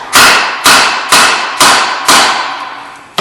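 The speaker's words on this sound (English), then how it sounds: "We're going to get in here with a hammer. We're going to bang this a few times" A hammer strikes the rear wheel bearing of a 2007 Subaru Legacy five times in a steady rhythm of loud, ringing metallic blows, close up and with no talk.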